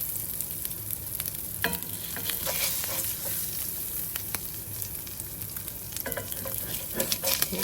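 Eggs frying in bacon grease in a cast iron pan give a dense, constant hiss and crackle, with brief pops and occasional scrapes close by, and no one speaks.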